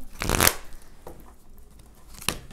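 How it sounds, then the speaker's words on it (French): A deck of amethyst oracle cards is shuffled close by, with a brisk riffling burst at the start, softer handling rustles, and a short second flick near the end. No one talks. "Je vais rajouter tout de suite les cartes de l'améthyste."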